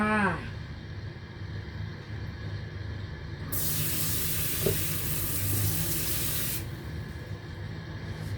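Shrimp fried rice with salted egg yolk stir-frying in a pan, a steady loud hiss and sizzle of oil that swells midway and then drops back, heard close with no talking.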